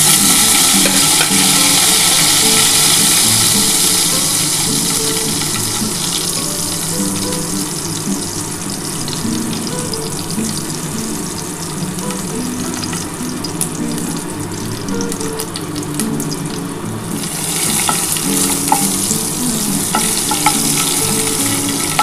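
Bay leaf, green and dried chillies and whole cumin crackle in hot oil as a tempering for mung dal, a loud continuous sizzle with stirring scrapes, easing slightly midway then flaring again near the end.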